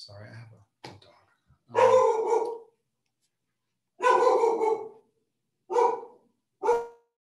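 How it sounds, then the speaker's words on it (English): A dog barks several times during a lecture, loud and close, sharp separate barks spaced a second or two apart, with a faint voice and quiet room between them. "hoping that we don't get too much more barking"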